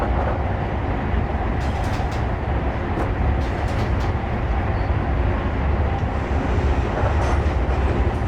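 A steady, dense rumble of an HST train coasting downhill with power off in Train Simulator 2015, with faint rhythmic clicks from the rails, continuous and without talking.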